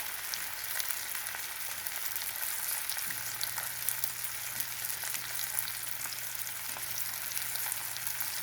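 Sockeye salmon fries in oil in a skillet, giving a loud, steady, close sizzle with crackling pops throughout and no talking.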